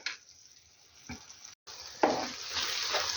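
Tomato paste frying in a pan for a Ukrainian lenten cabbage-roll dish, a soft close sizzle that swells after a brief pause, with a short stir-like clatter midway.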